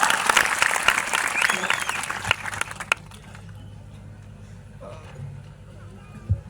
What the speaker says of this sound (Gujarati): આપણે જોરદાર તાળીઓથી સ્વાગત કરીએ